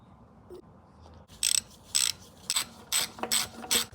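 Ratchet tightening a bolt during a Mazda Miata timing belt and water pump job, several short bursts of sharp metallic clicking after a quiet start, close and clear with no talking.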